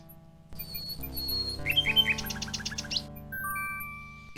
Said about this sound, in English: The little bird makes a delivery.